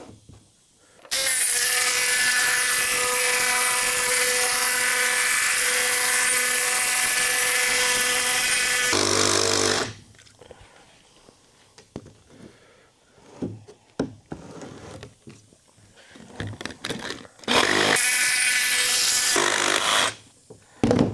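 A jigsaw cuts through rough-sawn lumber for custom barn doors, a loud, steady buzzing rasp running about eight seconds, then a quieter stretch of shuffling and handling before a shorter second cut near the end.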